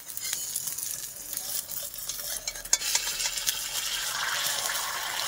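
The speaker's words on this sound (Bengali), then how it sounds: "ওই যে একটা অমলেট হচ্ছে।" A double egg omelette frying in a pan in a rural Sundarbans home, with a constant close sizzle and light scraping of a spatula, no voices over it.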